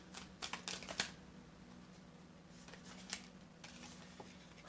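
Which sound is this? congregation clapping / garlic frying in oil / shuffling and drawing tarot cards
shuffling and drawing tarot cards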